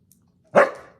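A single sharp dog bark, loud and close, rising suddenly out of near silence and trailing off quickly.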